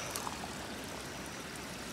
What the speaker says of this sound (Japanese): この水路、まあ山からの水がねもういっぱい道路を伝って こっちに落ちてきて